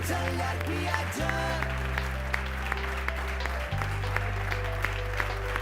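An audience applauds continuously at a public event, with a warm, even wash of clapping under steady, droning musical tones that shift pitch a few times.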